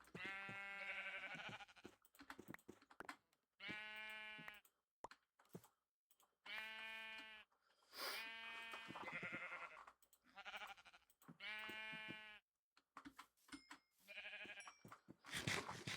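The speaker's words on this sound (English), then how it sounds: "And so that now gives me 9 sheep." Sheep in a Minecraft pen bleat repeatedly in short, clear, wavering calls, several in a row with brief gaps between them, close and distinct.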